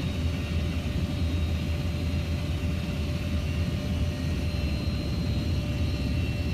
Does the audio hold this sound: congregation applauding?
no